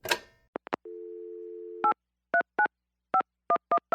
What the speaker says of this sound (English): here's his latest voicemail message